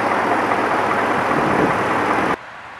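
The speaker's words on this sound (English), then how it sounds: "underneath the hood, there's a V8 5-liter engine" A 2018 Ford F-150 with a 5-liter V8 idling, a steady, loud low rumble that holds evenly before cutting off abruptly near the end.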